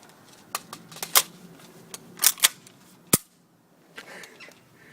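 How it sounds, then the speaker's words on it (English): A King Arms AR-15 airsoft gun fires several sharp, close snapping shots at an old NES game cartridge, the cracks coming in irregular bursts with light plastic clicks between them. "there's a few more airsoft guns that I want to try this out on"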